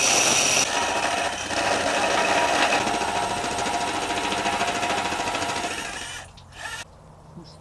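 A power drill whirs continuously at close range, then winds down and stops near the end.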